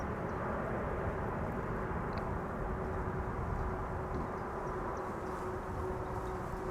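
Suparna Airlines aircraft taxiing at Amsterdam Schiphol Airport, a steady, continuous engine rumble and whine holding at an even level throughout, with no voices.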